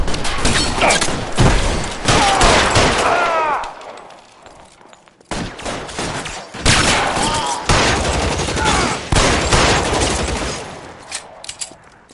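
Rapid bursts of gunfire in a shootout in the video game L.A. Noire, loud and dense with repeated volleys, a short lull in the middle, then more sustained shooting.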